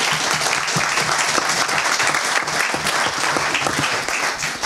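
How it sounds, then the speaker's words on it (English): Sustained audience applause fills the room after a veterans' resistance panel in Tacoma, steady and dense from start to finish with no talk over it. "a round of applause, please."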